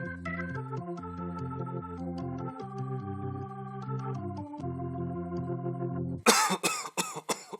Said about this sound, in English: I can't seem to shake this cough.